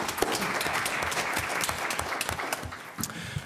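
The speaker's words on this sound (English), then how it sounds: "So a round of applause for yourself." A conference audience claps after a question-and-answer panel session, with dense, steady applause and sharp individual claps throughout at moderate loudness.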